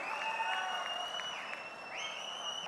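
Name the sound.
audience applause at political party event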